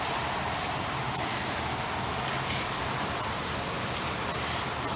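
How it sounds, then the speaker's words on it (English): Rain falls steadily on plants and into puddles outside a townhome, a dense even hiss of drops that continues unbroken, close and without speech. "But I love when my plants get rained on"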